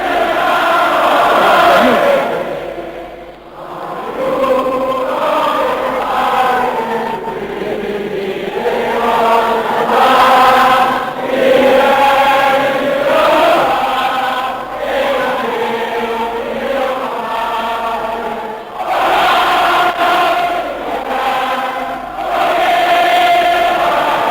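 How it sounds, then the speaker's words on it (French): A large crowd at a 1958 remembrance ceremony at a war memorial sings La Marseillaise in an old archival recording, with massed voices chanting and shouting loudly in sustained waves, each phrase clearly pitched. "La cérémonie du souvenir est couverte par les cris de la foule qui chante la Marseillaise"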